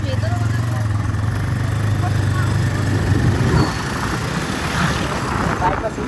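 A Bajaj Pulsar 200NS motorcycle on the move, its engine a steady low drone mixed with rushing wind noise that holds loud and constant throughout.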